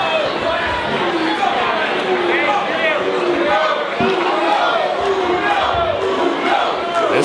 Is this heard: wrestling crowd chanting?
yes